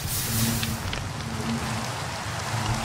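Steady rain falling in Minecraft, a soft, even hiss of drops throughout with a faint low hum underneath and no voices.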